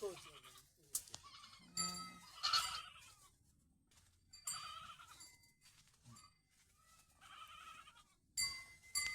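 Goats on a farm bleating, several separate calls rising and falling at intervals, fairly close, with people talking in between.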